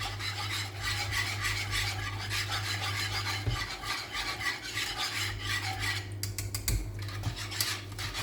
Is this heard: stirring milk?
yes